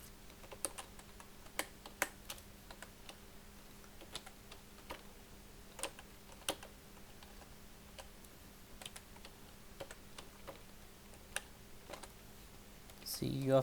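Computer keyboard keys are typed into a Microsoft Excel spreadsheet, giving sparse, irregular clicks and short bursts of taps close by over a faint steady hum, with no talking.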